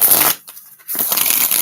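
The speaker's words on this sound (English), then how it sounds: "Let's get a full shuffle here." A Stranger Things tarot deck is riffled in two quick bursts of crisp, close card shuffling, separated by a brief pause.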